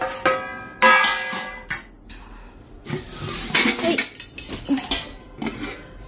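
Plates and cutlery are set out for three people, giving bright clinks and clatters of metal and dishes in several separate bursts with pauses between them.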